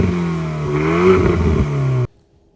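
An Alpine A110 S sports car with a central exhaust revs its engine close by, a loud rising and falling growl lasting about two seconds before cutting off abruptly into near silence.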